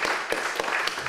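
An audience claps at a poetry festival event, a dense, continuous wash of applause with a few sharper individual claps standing out, filling the whole short stretch.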